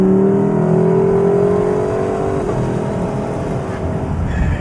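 A 2021 Lexus LC 500 Convertible engine roars loudly, its pitch sweeping up then dropping as the revs fall, leaving a rumbling idle-like drone.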